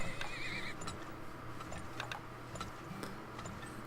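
A horse whinnies briefly in the video game Turmoil, followed by light rhythmic clip-clop ticks of game effects over a steady background hum, moderately loud with no speech.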